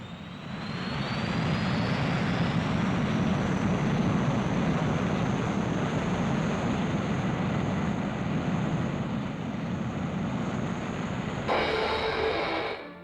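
A jet propulsion gas turbine engine roars with a steady, dense broadband rush and a high whine held throughout, loud and continuous before a slight change in tone near the end.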